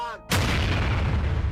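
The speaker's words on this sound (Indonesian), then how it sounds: "lampu minyak di sana meledak." A sudden loud burst as an oil lamp explodes, heard once and alone after a brief moment of quieter sound, with a dense noisy rumble lingering afterward.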